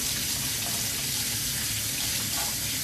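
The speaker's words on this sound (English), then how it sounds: "Make sure you wash your hands in here." Water runs steadily from a kitchen sink tap as hands are washed, a continuous close hiss and splash with no breaks and no talking.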